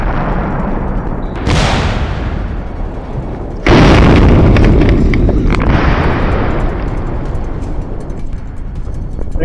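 A Duramax diesel engine blows up with a sudden loud blast partway through, following a rising roar, and leaves a sustained rushing noise that slowly fades.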